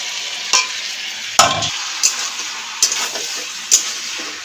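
Spices frying with raw pumpkin and chana dal in a pan, a steady sizzle punctuated by repeated sharp spatula knocks and scrapes at roughly regular intervals, no voices.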